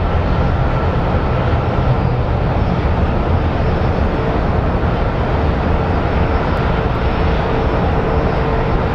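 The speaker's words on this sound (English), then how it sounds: "And here's our Sun Country Airlines." A Sun Country Airlines airliner at Phoenix Sky Harbor Airport produces a steady, loud jet engine roar that holds continuously without talk.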